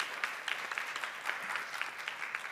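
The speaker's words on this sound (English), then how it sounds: "Let's give him a hand of applause." A conference audience claps steadily and evenly after a startup pitch presentation at a quantum computing event in Tokyo. The applause is moderately distant and runs without a break, with no talk over it.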